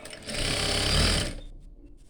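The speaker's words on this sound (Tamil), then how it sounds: "ஒரு தையல் இல்லைனா 2 தையல், உங்கள் விருப்பம் எப்படியோ அது மாதிரி நீங்கள் போட்டுக்கலாம்." A sewing machine stitches fabric in a tailoring lesson, a loud continuous mechanical whir of about a second and a half that then stops.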